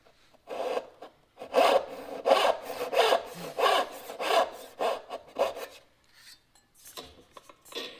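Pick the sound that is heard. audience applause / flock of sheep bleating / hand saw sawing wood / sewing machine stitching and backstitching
hand saw sawing wood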